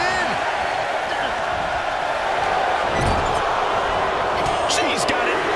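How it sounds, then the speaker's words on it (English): Arena crowd in the WWE 2K24 wrestling game during a 30-woman Royal Rumble match, a loud, constant roar of many voices with chanting and scattered bangs from the ring, steady throughout. "Listen to this crowd count the next one in."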